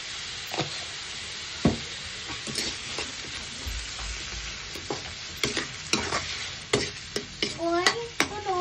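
Shrimp stir-frying for chopsuey in a hot pan, a steady close sizzle broken by frequent sharp scraping clacks of the spatula that grow busier toward the end, with no talking.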